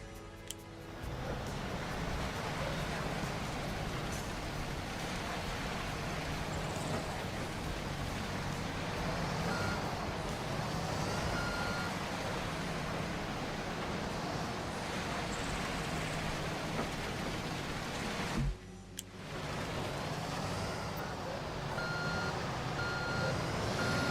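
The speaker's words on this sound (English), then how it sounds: "Pull the truck out into this open area so I can reverse back in." Steady electronic reversing beeps from a truck in the construction video game Construction Simulator 2, repeating in an even rhythm over a constant engine drone with no speech, broken by a brief gap near the end.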